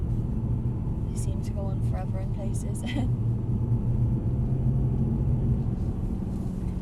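Mercedes C63 AMG sedan driving on a wet race track in the rain, a steady engine and road rumble running throughout beneath near, continuous talk from occupants inside the car.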